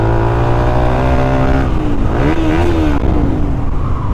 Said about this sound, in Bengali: এখন পর্যন্ত আমি যতগুলা বাইক রাইড করছি উইথ এক্সজস্ট, আমার কাছে এই অ্যাক্রোপোভিকের এক্সজস্টটা বেটার লাগছে অ্যান্ড সাউন্ডটা না